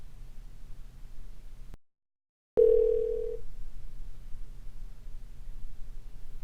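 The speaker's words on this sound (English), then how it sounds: "Just simply type the number in Number to Call and click Dial with Customer." A telephone line being dialed out for a three-way call gives a low hiss, then a brief dead silence, followed by a short steady tone lasting under a second before the faint line noise resumes.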